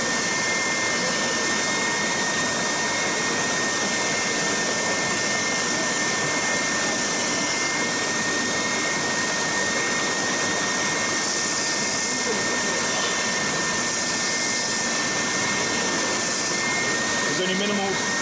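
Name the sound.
Triton TSPST450 oscillating spindle and belt sander running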